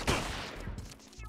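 Gunfire in the video game 50 Cent: Bulletproof, a short close burst of shots with a sharp crack near the start and a few more thumps after it, over a dense game soundscape.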